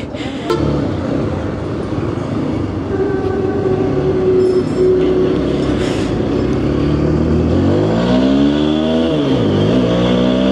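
A Honda motorcycle, freshly washed and slow to start, runs with a loud, continuous engine drone that revs up and down near the end.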